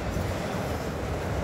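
A Norfolk Southern manifest freight train rolls past nearby with auto racks in the consist, a steady, loud, continuous low rumble of railcars that holds even throughout with no clear breaks.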